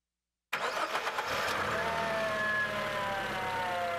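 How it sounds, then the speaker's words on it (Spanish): A car engine cranks and catches, then settles into a steady, close idle, with the whine of a cylinder-efficiency diagnostic setup audible over it. "Arrancamos el motor"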